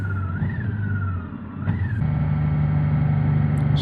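A Honda Goldwing motorcycle rolls into a car park near Neuschwanstein castle on an Alpine tour, its engine humming close and steady with a shifting whine, then settling into a firmer low drone over wind noise.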